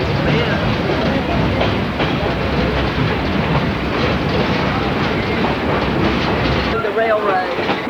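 A train rolls along a mountain railroad with a continuous close rumble and rhythmic clickety-clack of wheels, with voices talking faintly underneath.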